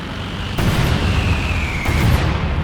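Fragmentation bombs dropped from aircraft on infantry in Company of Heroes 2 rumble as a dense, continuous roar of overlapping blasts, with swells of loudness and a faint whistling tone above.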